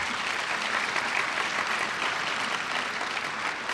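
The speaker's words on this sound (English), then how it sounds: "I think that deserves a round of applause." An audience at the 2015 Queens State of the Borough address breaks into sustained applause, a dense, steady wash of many hands clapping at even loudness throughout, with no speech over it.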